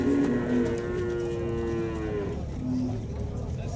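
Cattle at a livestock fair moo in long, drawn-out calls, one after another, over a background of crowd murmur and fair noise.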